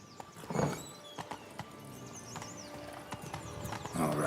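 Roach the horse galloping in The Witcher 3, with rapid clip-clopping hooves in a quick rhythm, sharp close hoof strikes, breathy snorts at start and end, and faint birdsong behind.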